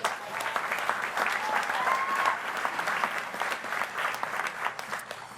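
An arena crowd at a Golden State Warriors NBA Finals event applauds the Warriors dance team, with dense, steady clapping and a faint whistle or cheer rising through the noise for the whole stretch.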